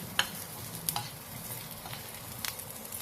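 Steady sizzling of vegetables and cashews stir-frying in a hot pan, with a few scraping clinks of a utensil stirring, nearby and moderately quiet.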